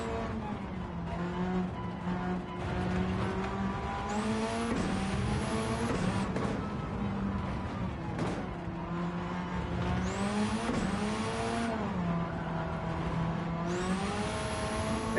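A race car in the video game Gran Turismo 7 drives continuously, its engine note climbing and dropping through repeated upshifts and downshifts, with brief tire squeals, loud and steady throughout.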